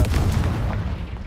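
Bombarda and Confringo spells explode in the video game Hogwarts Legacy, making a continuous heavy rumble of booming blasts, loud and close, with no pause across the short stretch.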